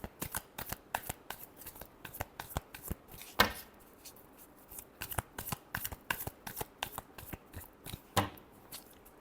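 Tarot cards being shuffled by hand in a quiet room, a rapid series of crisp riffling flicks and slaps in short repeated bursts, close and fairly soft.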